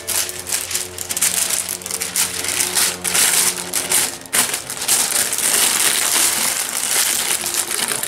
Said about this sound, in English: And then I'm going to go ahead and wrap my candle with the wax paper.